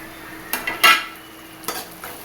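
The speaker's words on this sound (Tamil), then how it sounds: "கருவேப்பிலை போட்டு கொஞ்சோண்டு லைட்டாக அப்படியே மிக்ஸ் பண்ணிக்கணும்" Curry leaves stirred into frying onions in a pan, a few short scraping strokes of a spoon against metal over a faint sizzle.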